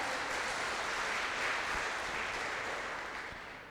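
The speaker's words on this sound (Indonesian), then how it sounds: "Tepuk tangan Bapak dan Ibu sekalian." An audience at an Indonesian Independence Day app launch applauds in a steady wash of clapping from many hands, swelling briefly and then fading toward the end.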